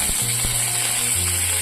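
Cumin, garlic, dry red chillies and curry leaves tempering in hot oil, a steady bright sizzle throughout with a faint low hum and a couple of soft clicks, no voices.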